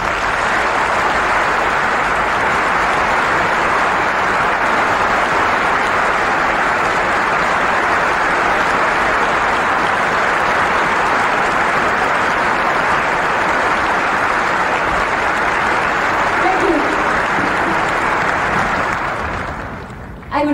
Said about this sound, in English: I would like to share your wonderful, wonderful applause with the ladies and gentlemen of this fabulous orchestra